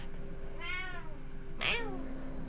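A pet cat gives two distinct meows indoors, the first drawn out and wavering, the second shorter and sharper, close and clear over a steady low room hum.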